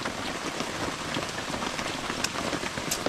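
Steady rain falls on a surface on a rainy day, a dense even hiss with scattered sharper drop ticks throughout, no voices.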